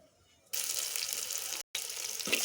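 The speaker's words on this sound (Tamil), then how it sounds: "குழம்பு தாளித்து ஊற்ற போகிறேன்" Spice tempering poured into fish kulambu gives a sudden loud sizzle that runs steadily, breaks off for a moment, then resumes close up.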